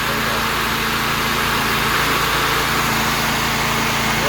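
Engine of a Vermeer SC252 stump grinder running loud and steady as the RPM comes up, a dense, continuous roar with a mechanical drone and no speech.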